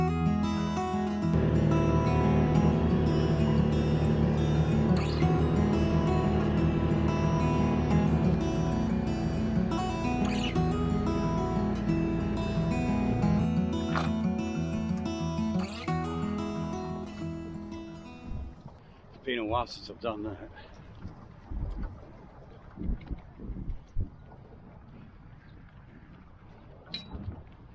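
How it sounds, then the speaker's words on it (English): A small dinghy with a new outboard engine runs on a river, a loud steady motor drone with wind buffeting for most of the stretch, then the engine cuts out, leaving quieter knocks, water sounds and a spoken remark. "let's go with the new dinghy and the new dinghy engine"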